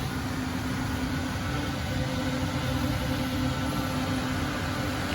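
Cooling fans run on a 12-GPU RTX 3060 Ti mining rig under test, giving a steady, unbroken whoosh with a low electrical hum beneath it and no talk.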